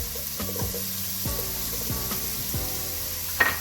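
Chillies, curry leaves and half an onion frying in a pan for a chicken rice dish, a steady close sizzle with several scraping stir strokes and a brief clink near the end.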